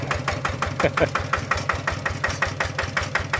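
A used walking tractor's small engine idling with a rapid, steady chugging knock, close and loud, with a voice talking briefly over it.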